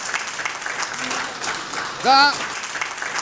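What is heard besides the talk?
audience applause at TV talent show finale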